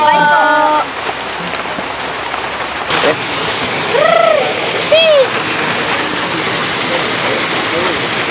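Steady rain pours outdoors where backyard chickens keep feeding, a dense continuous hiss of drops on surfaces with a few faint chirps rising above it.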